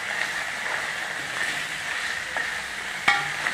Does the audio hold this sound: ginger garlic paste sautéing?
yes